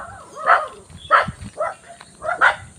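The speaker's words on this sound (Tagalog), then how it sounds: "Ay, wag niyo kami habulin mga aso." Dogs bark outdoors near a forest path, several short separate barks spaced about half a second apart, fairly close and loud against quiet background.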